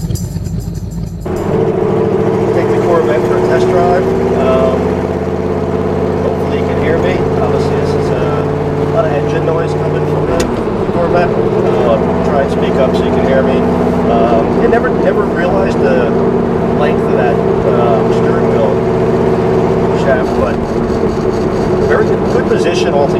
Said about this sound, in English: Take the Corvette for a test drive.